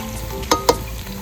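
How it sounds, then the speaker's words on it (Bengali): Onions and garlic sizzle steadily in hot oil, with two quick clinks of a spoon stirring the pan close by. "পেঁয়াজগুলো খুব সুন্দরভাবে ভাজা হয়ে গেছে, আর রসুনও খুব সুন্দরভাবে ভাজা হয়ে গেছে"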